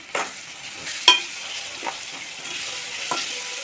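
Bitter gourd frying over high heat with spoonfuls of ginger and turmeric, a steady soft sizzle broken by a few sharp stirring clinks and scrapes in the pan.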